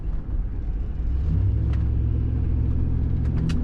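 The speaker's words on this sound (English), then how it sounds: "You do get a little bit of a nice rumble from the exhaust on these when you throttle it up." A 2004 Chevrolet SSR truck's exhaust rumbles as the throttle opens, a deep, loud, building low-end growl that settles into a steady drone, with a few faint clicks and no talk.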